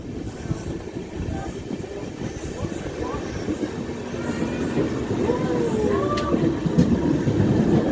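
A train on the Visakhapatnam to Araku Valley line rumbles past with steady rolling noise that grows louder, and thin wheel squeals rise near the end.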